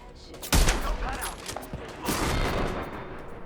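Gunfire from an enemy in a video game breaks out in a loud, close burst, then continues as a dense rattle of shots that fills the rest of the moment.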